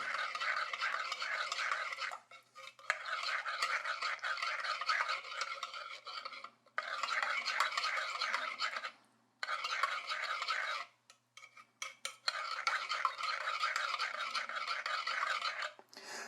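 Coffee being stirred in a cezve for Balkan or Turkish-style brew, a steady scraping and rasping of the spoon against the pot. It comes in several long bursts separated by short pauses, close and fairly clear.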